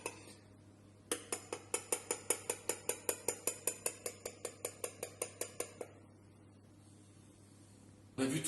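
A utensil beats cake batter with powdered cinnamon in a bowl, making a fast, steady run of about twenty rhythmic clinks and scrapes. It stops abruptly, leaving quiet.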